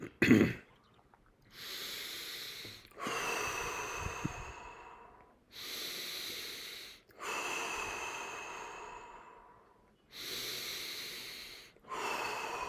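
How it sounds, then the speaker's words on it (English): Guided deep breathing exercise: a person takes slow, long breaths in and out, about six full cycles, each a drawn-out airy rush with short quiet gaps, close and fairly soft. "Keep on breathing deep, another 8 times."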